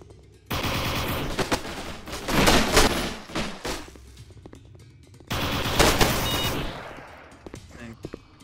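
Rapid automatic gunfire from the VR shooter Art of Fight, played on an HTC Vive, comes in two dense sustained bursts separated by a short lull, loud and close, with scattered quieter shots near the end.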